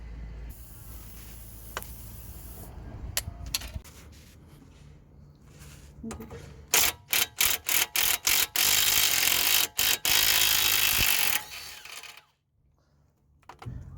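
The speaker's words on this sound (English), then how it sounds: "Right now we're going to be using a 17 mil socket to take the nut off here on the track rod end" A ratchet with a 17 mm socket undoes the track rod end nut on a Mitsubishi Lancer, with scattered clicks followed by loud, rapid ratcheting bursts up close that stop abruptly, then quiet.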